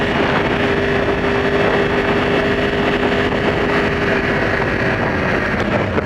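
A Yamaha R1 sport motorcycle at speed on a demo ride, its engine a steady loud drone blended with heavy wind rush across the microphone for the whole stretch.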